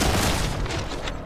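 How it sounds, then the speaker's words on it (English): A delivery package explodes in a video game, a loud close blast with a dense rumbling tail that fades over about a second. "Some long distance delivery packages that have the special explosion feature"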